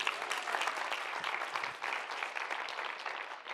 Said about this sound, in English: One more round of applause for our finalists.